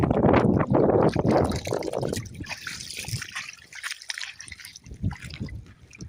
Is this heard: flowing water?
yes